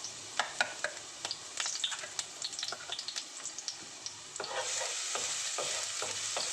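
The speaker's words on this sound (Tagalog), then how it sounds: "ipa-brown lang po natin yung ating bawang" Garlic sautéing in a pan for chicken afritada: a steady sizzle with frequent scraping stirs from a utensil, and the frying hiss swells louder near the end.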